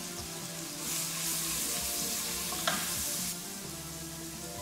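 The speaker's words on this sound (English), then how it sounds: "we're just gonna throw things in and sort of saute them. So first goes in your shallots." Shallots sautéing in oil inside a Breville Fast Slow Cooker pot, a steady close sizzle with stirring scrapes, rising louder midway as more shallots drop in, with one brief sharp clink.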